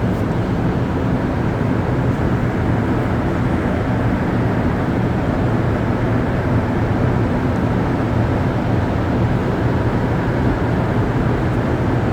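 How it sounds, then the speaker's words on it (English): Montréal Métro train pulling out of a station, a steady, loud broadband rumble and roar of the rubber-tired cars that holds constant throughout without any talk. "And we'll get a video of the train departing."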